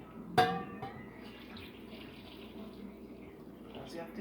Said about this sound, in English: I'll add some more hot water.